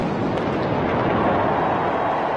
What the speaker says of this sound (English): Gun number four, fire!